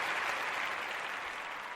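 Studio audience applause fills a short stretch, steady dense clapping heard close and loud, with no talking over it.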